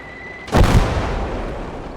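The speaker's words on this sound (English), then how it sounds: "That's a heavy mortar." Heavy mortar fire in the strategy game Legion of the Damned, a single loud, deep boom that hits suddenly after a thin steady tone and decays into a lingering rumble.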